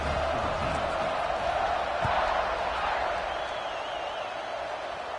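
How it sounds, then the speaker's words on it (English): In the College Football 26 video game, a stadium crowd cheers before kickoff. The roar is steady and moderately distant, with a brief swell in the middle. "this crowd now ready to get behind them"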